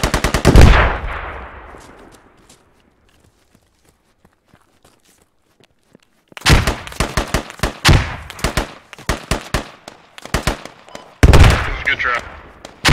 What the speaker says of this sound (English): Shots to the southwest.